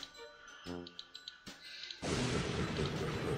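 A rapid run of sharp mechanical clicks sounds at first, followed by a sudden loud, steady burst of broadband noise that keeps going.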